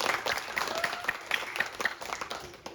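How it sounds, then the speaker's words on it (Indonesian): An audience applauds parents at a literacy oration event, a short burst of steady, moderately loud clapping from a gathered crowd. "Tepuk tangan buat semua orang tua kita."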